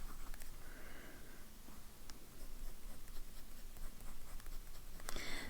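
A Pilot 823 fountain pen with a medium nib in smoke finish scratches across paper in short continuous strokes with small taps between words, close and clear in a quiet room.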